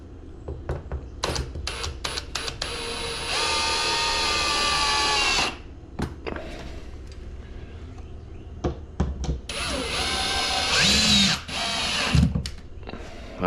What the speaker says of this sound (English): So then we just can screw it in.